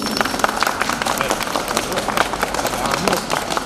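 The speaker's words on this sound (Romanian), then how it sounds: "Să-l aplaudăm." Crowd applause for railway director Ștefan Mihai at a steam train event in Galați, Romania: steady, dense clapping throughout, with voices mixed in.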